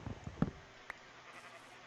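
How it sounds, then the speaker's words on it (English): Faint, brief bleats from a sheep in the video game Minecraft sound over a quiet background hiss, bunched in the first half second with a single short click after. "And we are going to kill the sheep."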